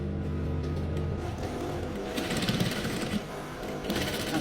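A sewing machine stitches a pocket seam in a quick, even mechanical whir that speeds up midway, close and clear, with no voices.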